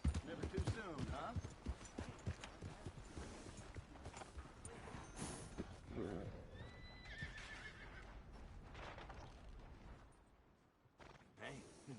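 A horse in the Red Dead Redemption western video game whinnies and snorts with clip-clopping hooves, fairly close, alongside game ambience and a brief tonal call, with the sound thinning out near the end.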